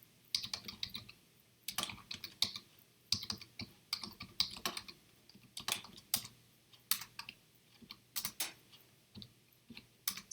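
Rapid typing on a computer keyboard while writing Java code: irregular bursts of crisp key clicks with short pauses, close and clear, no voices.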